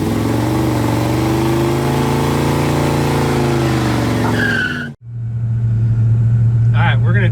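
A 1968 Chevy El Camino idles with a steady, low, rumbling drone. A short break near the end is followed by the same idle continuing, with faint voices in the background.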